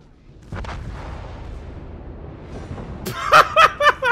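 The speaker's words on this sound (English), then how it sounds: "Those are just my secondaries shooting at him." Secondary guns on a warship in World of Warships fire in a quick series of four sharp, loud booms near the end, following a quieter stretch of distant gunfire and background rumble.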